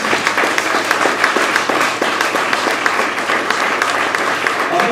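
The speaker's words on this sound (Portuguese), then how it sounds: "Você pode dar uma salva de palmas ao Senhor" A church congregation applauds the Lord during a bilingual Portuguese–Italian sermon, dense steady clapping from many hands filling the room for the whole stretch, with faint voices mixed in.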